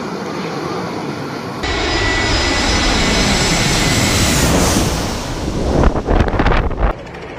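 Commercial airliner landing just meters above a beach, a loud, sustained engine roar that swells as it passes overhead, heavily buffeted by wind gusts, with sharp gusty bursts near the end.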